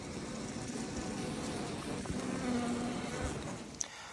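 A dense, steady buzz of heavy Caucasian-Carniolan honey bees swarms close at an opened hive, with a brief sharper tick near the end.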